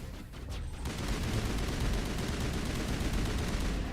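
Sustained heavy gunfire in the Mass Effect 1 video game, with sniper fire in a dense, continuous barrage of shots and rumbling blasts that stays loud throughout.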